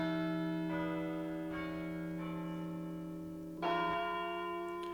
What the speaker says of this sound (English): the clock strikes 4 quarters, and the bell